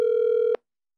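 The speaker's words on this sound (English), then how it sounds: "It's ringing. Okay, speakerphone." A telephone ringing tone plays over speakerphone as a single steady electronic tone lasting about half a second, then cutting off abruptly to silence.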